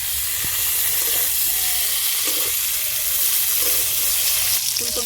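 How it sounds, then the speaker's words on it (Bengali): Cauliflower pieces fry in a pan of hot oil with dried red chilli and five-spice tempering, giving a steady, loud sizzle with a few faint stirring knocks and no talk. "ফুলকপিগুলো একটু হালকা করে ভেজে নেবো।"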